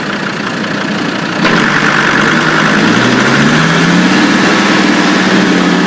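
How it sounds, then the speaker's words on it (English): An off-road vehicle engine starts with a sharp catch and then settles into a steady, loud idle, a close rumbling hum that runs on evenly with no talking. "Engine started, this time first gear and reverse gear."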